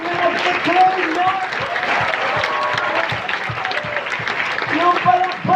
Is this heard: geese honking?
no